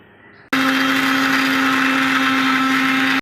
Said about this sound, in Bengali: আর আদা নতুন করে আবার পিষে নিচ্ছি এখানে আদা কাঁচা লঙ্কা আছে